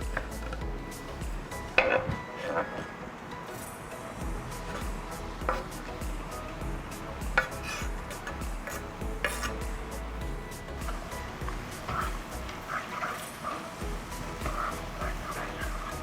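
Mushrooms stirred and cooked in a pot, a soft sizzle under repeated scraping and clinks of a utensil against the pan, at an uneven rhythm, with no voices.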